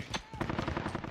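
Incoming gunfire in the shooter game Call of Duty Cold War comes as a rapid burst of close, sharp machine-gun shots, with a brief voice line mixed in.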